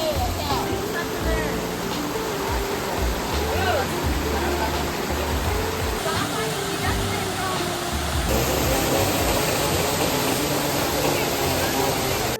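A waterfall near Mullayanagiri peak in Chikkamangaluru pours in a constant broad roar of rushing water, close and loud throughout, with people talking faintly beneath it.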